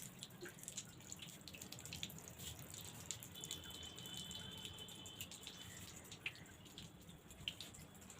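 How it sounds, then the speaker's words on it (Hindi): Water flows and drips indoors at home: a faint, steady trickle with scattered small drips and light rattles, quiet and with no one speaking. "यहाँ से पानी बह रहा है"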